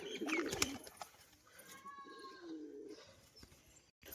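Pigeons, a bonded breeding pair offered for sale, give a few soft cooing calls at close range, faint and intermittent with some handling noise around them.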